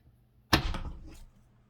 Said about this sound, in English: one more shuffle, Leo